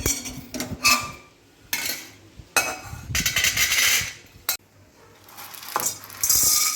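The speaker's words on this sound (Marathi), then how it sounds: "शेंगदाणे भाजून झाले शेंगदाणे काढून घेते एका डिशमध्ये" Roasted peanuts are tipped and scraped from a pan into a dish, producing a series of close, bright metallic clinks and rattling scrapes in irregular bursts with short pauses between them.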